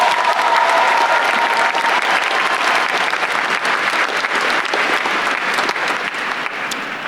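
At the Matoaca High School Class of 2024 graduation, a large audience applauds in a loud, dense wash of clapping that holds steady throughout and eases slightly at the end.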